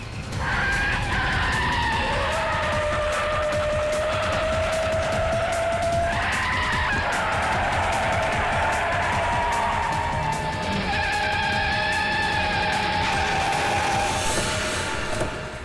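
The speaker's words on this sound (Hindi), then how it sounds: "गाड़ी घुमा पंकज, जल्दी।" Car tyres screech loudly in a long skid as the car swerves around during a tense chase, the squeal holding throughout with rising and falling pitch over engine noise.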